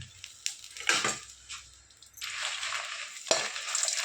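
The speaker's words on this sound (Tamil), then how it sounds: "இந்த கடாயிலேயே மிளகாயை போட்டு வறுத்துக்கிறேன்" Dried red chillies roast and rattle in a kadai after garlic, giving soft crackling sizzles with a few scraping stirs and clinks that come and go, quiet and close.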